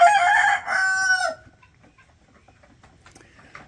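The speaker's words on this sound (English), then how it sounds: "That's a zombie rooster right there." A single loud rooster crow, close by and drawn out, fading into quiet farmyard rustling and a few faint clucks.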